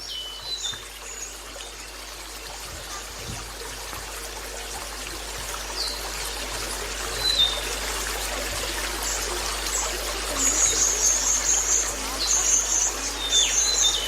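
Steady, continuous rush of the Bengawan Solo river flowing past its bank, a dense even wash of water noise, with small birds chirping and twittering sporadically above it, growing busier toward the end.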